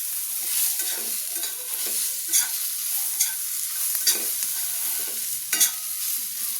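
Masala with tomatoes roasts in a pan for dhaba-style dum aloo, giving a steady close sizzle broken by several sharp scrapes and knocks of the stirring spoon, with no voices.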